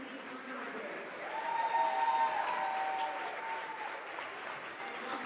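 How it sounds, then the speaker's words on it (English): Fans at a high school district playoff basketball game applaud steadily in a gym during the starting lineup introductions, a moderately distant wash of clapping that swells midway and then settles, with a sustained tone ringing faintly over it. "some of the fans are clapping it up for the Big Spring Bulldogs as they're introducing their starting lineup"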